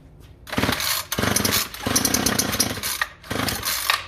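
A small 2-stroke engine on full choke is pull-started in several short bursts, each cough and sputter lasting about half a second to a second, separated by brief pauses, loud and close.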